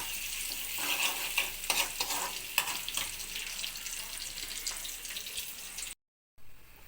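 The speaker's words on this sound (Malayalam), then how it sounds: "ഉള്ളിയും വേപ്പിലയും മൂത്ത്, അത് ചെറിയ തീയിൽ വേണം കേട്ടോ ഇടാൻ" Sliced onion and curry leaves frying over a low flame in a pan for a coconut fish curry, with a continuous close sizzle and occasional stirring scrapes, ending in a brief cut of silence.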